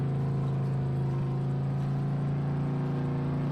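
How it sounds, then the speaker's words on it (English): A truck engine drives steadily in a farming video game, a constant mid-pitched hum and whir that holds close and even for the whole stretch, with no talk over it. "That truck looks and sounds good."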